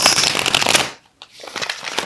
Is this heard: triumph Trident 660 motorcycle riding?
no